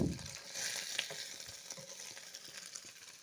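Paneer pieces frying in hot oil until browned, giving a soft, steady sizzle with faint stirring clicks throughout, fairly quiet and with no voices.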